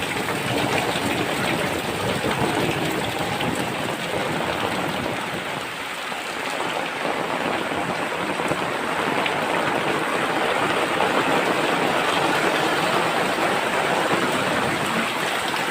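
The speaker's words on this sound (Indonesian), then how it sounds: "Ada hujan di kampungku." Rain falls steadily over a rural village, a dense even hiss of drops on surfaces that stays loud and constant from start to finish.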